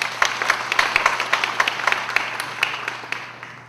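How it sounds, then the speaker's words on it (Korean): Audience applause welcoming a speaker at a closing worship service of a national pastors' summer seminar, a dense run of many hands clapping in a hall, steady and fairly loud, gradually thinning toward the end. "박수로 환영합니다."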